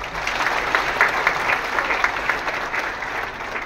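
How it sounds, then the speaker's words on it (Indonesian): An audience applauds Rosan Roslani at a public housing and home-loan event, a steady, dense wash of many hands clapping throughout, fairly loud and close, with no clear voices over it. "Kita berikan tepuk tangan buat Bapak Rosan Roslani."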